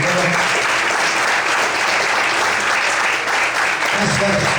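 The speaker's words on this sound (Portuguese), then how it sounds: "Você pode aplaudir o Senhor, então." A church congregation claps loudly and continuously for several seconds, a dense sustained applause filling the room, with a voice briefly audible near the end.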